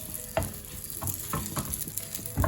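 Urad dal and dried red chillies roasting in a pan, a soft close sizzle broken by several brief scraping stirs.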